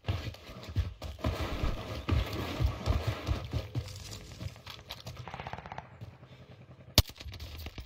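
Rapid video game gunfire in a team shooter match, with bursts of automatic fire rattling steadily for several seconds, then a single loud sharp shot near the end.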